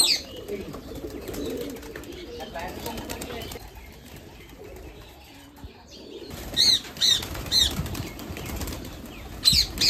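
Wings flap in quick bursts near the end, with native pigeon calls and soft cooing scattered throughout and a voice murmuring in the background.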